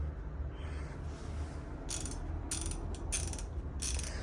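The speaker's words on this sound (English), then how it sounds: "It's a really nice ratchet." A ratchet wrench with a breaker bar clicks in bursts of rapid pawl ticks, close and fairly quiet in a small workshop garage.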